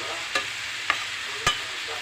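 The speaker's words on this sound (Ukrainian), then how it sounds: "Цибульку жаримо." Onion frying in a pan for potatoes with meat stewed in clay pots, a steady close hiss broken by three sharp scraping strokes of stirring, no talk.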